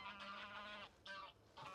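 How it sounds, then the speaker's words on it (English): Geese honk outdoors in the wild, a few overlapping nasal calls in three bursts, fairly clear and moderately near, with no voices. "Always wary when you hear geese like this"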